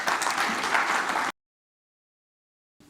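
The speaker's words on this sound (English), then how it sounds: "Just another round of applause for Dominic." Clapping from a conference audience at an agronomy conference on cereals in 2025, dense and even for just over a second before cutting off abruptly into silence.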